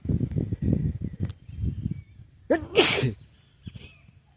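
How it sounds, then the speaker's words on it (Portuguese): A single sharp sneeze bursts out close to the mic during an outdoor countryside walk, following some earlier rustling and a person murmuring, with faint background noise continuing afterward. "Desculpa, gente, estou espirrando"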